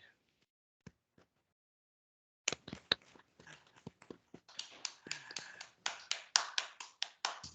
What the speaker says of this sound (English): give all three of them a big round of applause